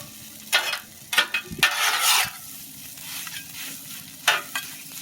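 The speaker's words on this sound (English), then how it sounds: "you can also use the ladle to stir your food on hibachi" Fried rice stirred and flipped on a hibachi grill, with scraping metal strokes in a few quick clusters over a steady low sizzle, close and moderately loud, no talking.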